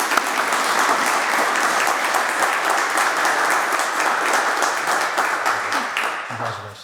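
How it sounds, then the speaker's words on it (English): A dinner audience at a civic association academic event applauds a scholarship winner, with dense, loud, sustained clapping from a full room that fades slightly near the end. "So let's give a congratulatory applause to Juliana Douglas."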